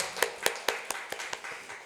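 A congregation in a church service claps in a steady series of about eight sharp, evenly spaced claps, moderately close and fading slightly toward the end, with no talk over it.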